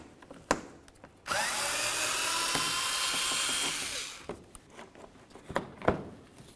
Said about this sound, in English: We essentially just want to take out the mounting bolts for it so we can go ahead and pull it away